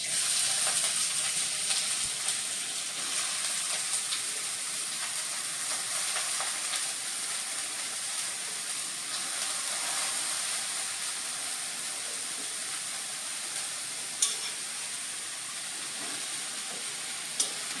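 Onion, green chili and red amaranth greens sizzling in hot oil, a steady close frying hiss with occasional faint clinks of stirring throughout.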